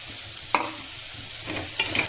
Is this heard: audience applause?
no